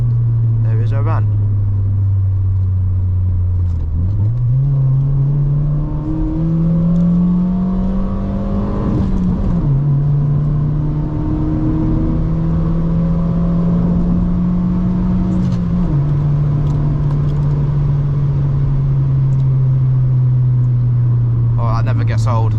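A 98-horsepower Honda Civic EP2 engine drones from inside the car, rising in pitch under acceleration and dropping at each gear change, steady and prominent throughout.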